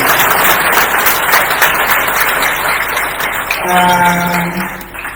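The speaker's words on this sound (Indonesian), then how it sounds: "Mari kita beri tepuk tangan yang meriah bagi Tuhan Yesus Kristus." Church congregation at a Christian youth reunion in Atauro, Timor-Leste applauding loudly, dense steady clapping that fills the room, with a brief sustained tone from a sound system near the end.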